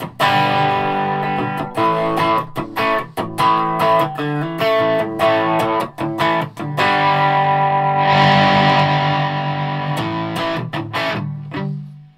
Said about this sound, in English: Maybe we put reverb on that particular level.